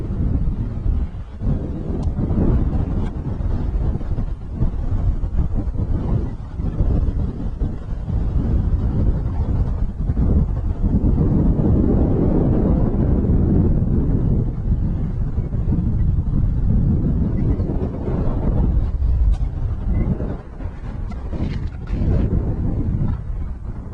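Wind buffets a fishing boat out on a delta, roaring steadily against the microphone with gusty low rumbles that swell and ease throughout.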